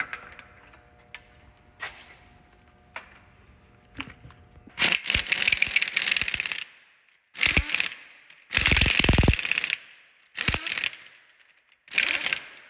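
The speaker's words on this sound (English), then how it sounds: "we're just putting those on with the gun just to get them on there" An impact gun runs in a series of loud, rattling bursts, each lasting about a second, as it spins large wheel nuts onto a 2001 Land Rover Discovery 2 during front wheel bearing work. Quieter clicks and shop noise fill the gaps between bursts.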